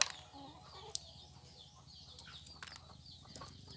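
Native chickens cluck softly at feeding time in a rural province yard, with scattered clucks, a few wing flaps and sharp clicks, quiet and fairly close.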